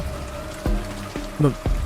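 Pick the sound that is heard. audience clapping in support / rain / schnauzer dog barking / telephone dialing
rain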